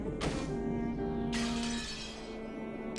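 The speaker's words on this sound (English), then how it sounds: "A teacup on the table smashed on the floor, making a violent sound." Teacup from the Umineko visual novel smashing on the floor, two sharp shattering crashes with ringing porcelain fragments, fairly close and quiet overall.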